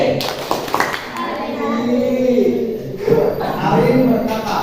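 A school class claps a patterned rhythmic clap for a girl named Arin, crisp bursts of hands mixed with children's voices and a teacher chanting along over the clapping.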